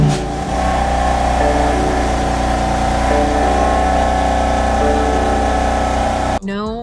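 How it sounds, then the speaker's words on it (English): BMW F82 M4 CS engine running at a loud, steady idle with a rich low rumble and a slight rise in revs, cutting off near the end. "now I'm going to turn on the car and test it out"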